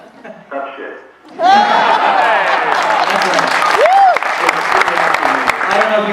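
An audience at a Colorado College event breaks into a loud, sustained round of applause mixed with scattered laughter, rising suddenly after quiet talk and holding steady to the end.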